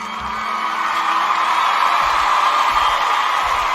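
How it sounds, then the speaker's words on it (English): Crowd cheering with whoops and yells, loud and steady throughout, with a few short bursts at the start and end. "let's all give him a round of applause for that."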